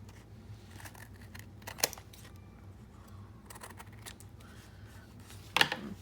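A couple of crisp scissor snips trimming paper for decorating a journal, two distinct cuts a few seconds apart against a quiet room background.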